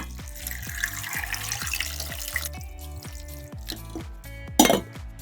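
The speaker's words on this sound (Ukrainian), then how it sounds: "В каструлю додаю моркву та заливаю водою." Water pours and splashes into a pot holding carrots in a steady stream, with a few clinks of the vessel and a louder splash near the end.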